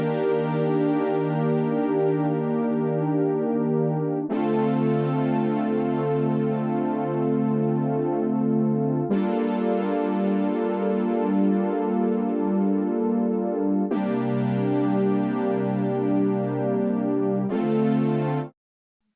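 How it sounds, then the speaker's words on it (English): Soloed synth chords from the Retro Machines instrument with the cutoff lowered to tame brightness, in a modern G-funk beat; five sustained chords change every few seconds, warm and steady, with no voices. "I went back to Retro Machines and decided to play some chords instead"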